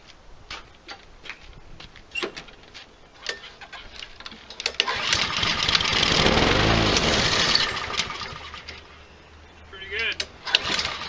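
A Husqvarna 7021R lawn mower with an unbalanced blade, its engine cranking over with a few ticking pulls before catching and running loud and rough for several seconds, then dropping away, with someone talking around it.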